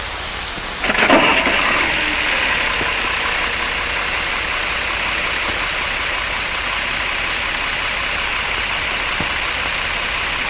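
An LD 465 multifuel diesel engine in an M35A military truck cranks and catches with a brief burst, then settles into a loud, steady, rushing idle that carries on alone.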